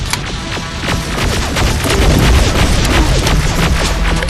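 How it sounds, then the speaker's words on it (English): Heavy gunfire in the Terminator Resistance video game, a dense, loud barrage of overlapping shots and booming impacts rolling on continuously without pause. "Under heavy fire!"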